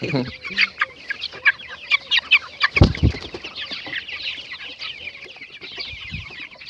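A flock of forty-day-old chicks let outside, cheeping and clucking in quick bursts close by, with brief sharper calls and a rustle, and a voice murmuring faintly underneath.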